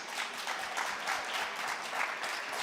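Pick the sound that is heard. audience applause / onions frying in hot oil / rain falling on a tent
audience applause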